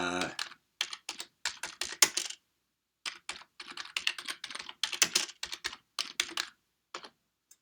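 Keys clatter on a computer keyboard in quick close bursts of typing, separated by short pauses, with no talking over them.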